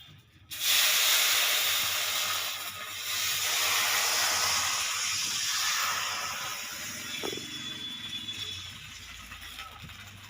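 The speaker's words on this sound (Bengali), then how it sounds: "ঢাকনা খুলে দিচ্ছি" A lid comes off a pot of steaming rice-flour chakli pitha with a sudden rush of loud steam hiss that holds steady for several seconds, joined by a faint metallic clink partway through.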